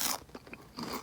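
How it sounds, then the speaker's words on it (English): Crunchy food being bitten and chewed up close, a few loud crisp crunches with brief pauses between them and no talking. "Do you hear the crunch on these?"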